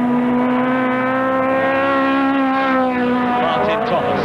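Saloon racing cars from 1971 at the Crystal Palace circuit run loud and close, one engine note holding steady and then sliding downward as the cars round a right-hand bend, while commentary continues over it.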